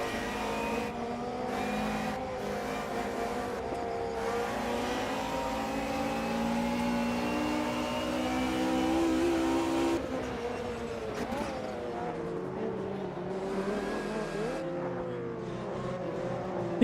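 Race car engines in the sim racing game Automobilista 2 rev and whine continuously during an offline race, a sustained layered engine drone with shifting pitch and gear changes, heard alone without talk.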